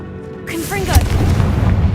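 A Confringo explosive spell blasts in Hogwarts Legacy with a loud, booming burst and a rumbling, crackling tail, mixed with a brief voiced cry and game sound effects.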